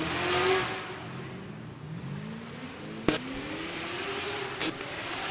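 Spec-D race car accelerating at Mission Raceway Park, its engine note climbing through the gears at a distance with shifts audible, and a couple of sharp clicks partway through.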